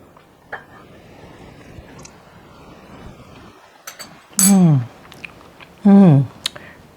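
Someone chews a piece of pork and cabbage stir-fry with shrimp, giving close, wet bites and squishy chewing, with two loud crunchy bursts near the end and no talk.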